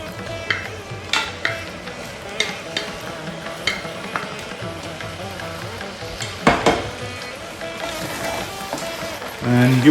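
Diced lamb frying and being stirred in a pot for a one-pot lamb biryani, a steady sizzle with scattered scraping clinks of the spoon throughout, fairly close, with no talk over it.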